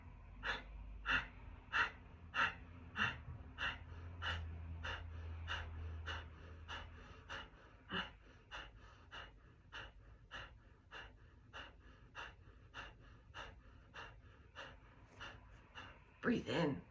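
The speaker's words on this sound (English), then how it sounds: "Breathe in, breathe out, all through your nose, in and out through your nose." Steady, rhythmic breathing through the nose, each breath a soft rushing puff repeating about once a second, close and clear with a low hum underneath.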